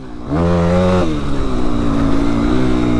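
A 2004 Yamaha WR-F 250 motorcycle engine revs up sharply, its pitch climbing and holding high before easing and rising again, loud and close with no talk over it.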